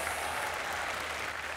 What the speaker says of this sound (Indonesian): Kita kasih tepuk tangan dong untuk Pak Topo